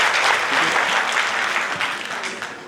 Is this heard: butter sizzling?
no